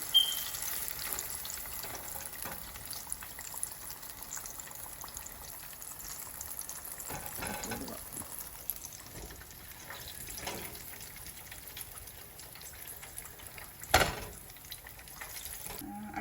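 Mung bean susiyam dumplings frying in hot oil, a steady close crackle and sizzle with occasional stirring clicks and spoon scrapes throughout.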